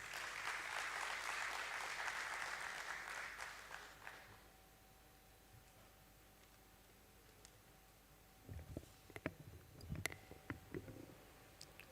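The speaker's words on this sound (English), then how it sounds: "to join us on the stage with a huge round of applause" Audience applause at the Borosil Scientific Ltd listing ceremony at BSE, loud and broad for the first four seconds, then dying out into a quiet hall with a steady tone, a few scattered claps and knocks near the end.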